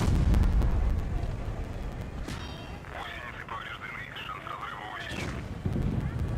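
Tank cannon shots in World of Tanks Blitz: a heavy low boom at the opening, then a sharper report near the middle, with a tonal engine or turret whine and a later thump, all loud and close.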